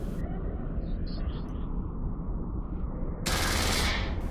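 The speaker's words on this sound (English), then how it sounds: "These cannons are still very, very awful, so we need to be ridiculously close to get decent hits." Ship cannons firing in a video game, heard as a steady rumbling barrage of gunfire that swells into a sharp, louder burst near the end.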